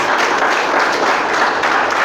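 A church congregation applauds during a Portuguese-language sermon on the gifts of the Spirit, a steady dense wash of many hands clapping at close range for about two seconds, with no voices over it.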